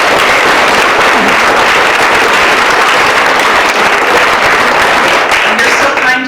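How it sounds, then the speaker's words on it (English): A lecture audience at an ancient Egypt talk breaks into loud, continuous applause, a thick even roar of clapping that stays steady from start to finish. "So applaud with me,"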